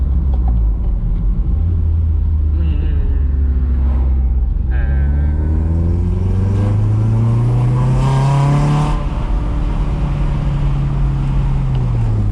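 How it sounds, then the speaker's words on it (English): A Toyota MR2 SW20 with an aftermarket Mongoose exhaust revs hard, climbing and falling in pitch through several throaty bursts, loud and close with a deep rumbling exhaust note. "at least we've actually got the exhaust on and we've had some nice noises"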